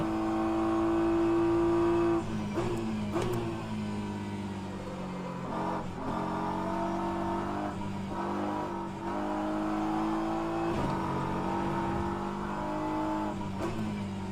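GT3 race car in a racing video game at Spa-Francorchamps, its engine droning steadily at high revs, with brief dips and gear-change breaks through the lap, up close and alone.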